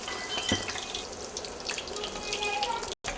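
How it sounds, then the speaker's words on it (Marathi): River fish frying in hot oil, a dense close crackling sizzle running steadily throughout, alone with no talk. "एकदम कुरकुरीत तळून घेऊया हे"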